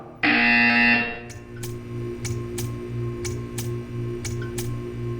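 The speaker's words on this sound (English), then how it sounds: "When you hear the buzzer, stare at the art." A loud electronic buzzer sounds once for about a second in the video game Portal 2, followed by a run of regular clicking ticks over a low hum.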